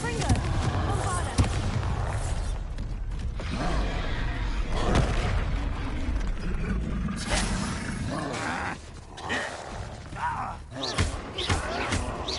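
A Bombarda explosion spell in Hogwarts Legacy on PS5, heavy roaring blasts and booms that keep going over a constant loud, rumbling game din, with a voice speaking in the mix.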